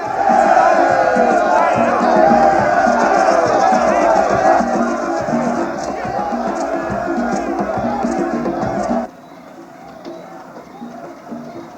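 A shouting mob gathers outside a small-town jail, a dense continuous roar of many angry voices close and loud, breaking off abruptly near the end to a quieter murmur.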